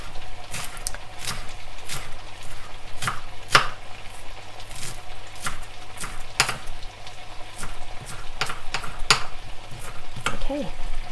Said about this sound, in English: I'm just chopping up some coriander quickly whilst this is cooking.